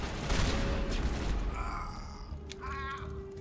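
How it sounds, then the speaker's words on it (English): A shotgun fires in the video game Mass Effect, with a dense, loud blast and rattling burst at the start that gives way to sci-fi hums, electronic tones and game ambience. "This is a terrible shotgun."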